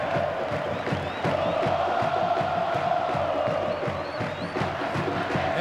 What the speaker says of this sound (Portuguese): E a torcida do Avaí cresce